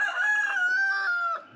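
Backyard chicken crowing: one loud, close, sustained crow with a steady harmonic tone lasting over a second before trailing off, heard alone.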